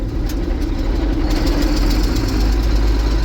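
The diesel engine of a restored 1982 John Deere 8640 tractor, fitted with a new clutch and transmission, runs steadily with a deep low rumble and a faint rhythmic knock, loud and close, with no talking.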